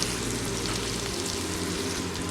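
Thinly sliced onion frying in hot oil with whole tempering spices, a loud, steady sizzle running throughout with no voices.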